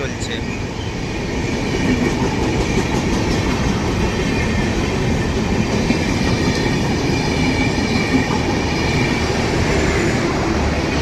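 The Howrah–New Delhi Rajdhani Express speeds through Dankuni Junction, a loud steady rumble with wheel clatter and faint squeal over rails, continuous and close for the whole stretch.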